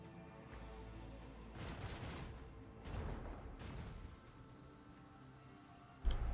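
Torpedoes explode in a space video game as a rolling series of rumbling blasts swelling and fading over several seconds, then a sudden loud low boom at the end.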